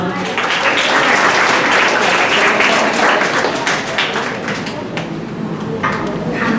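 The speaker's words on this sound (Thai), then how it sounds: "ขอเสียงปรบมือต้อนรับท่านผู้ช่วยศาสตราจารย์ดรจงรุษสายุครับ" Audience applause welcoming a guest speaker at a project event on fermented bio-extract, loud close clapping from a room of people that builds, holds, then thins out toward the end.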